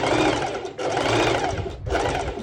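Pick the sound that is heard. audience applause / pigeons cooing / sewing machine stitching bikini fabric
sewing machine stitching bikini fabric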